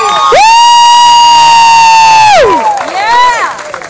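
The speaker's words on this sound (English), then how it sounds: "I want to give her a round of applause" Crowd at the 45th Great Midwest Marijuana Harvest Festival in Madison, Wisconsin cheering loudly, led by a long piercing whoop or whistle that slides down, then a second shorter wavering shout over rowdy background noise.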